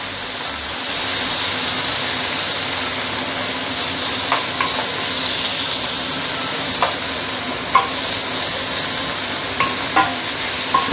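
Salted mustard greens stir-frying in a hot pan for fish head soup, a loud continuous sizzle with occasional light spatula scrapes and clicks.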